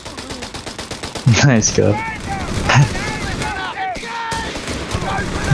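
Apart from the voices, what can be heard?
gunfire in video game Company of Heroes 3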